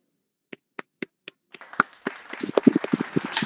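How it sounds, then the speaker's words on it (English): A handful of debaters in a virtual session start with several single, separate claps, then break into a brief, uneven round of scattered applause, close and fairly faint. "Debaters, let's give ourselves a round of applause."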